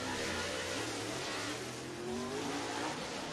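Dirt track race car engines at Duck River Raceway Park in Lewisburg, Tennessee, a dense, continuous roar with engine pitches rising and falling as cars circle, heard from a distance but filling the whole clip.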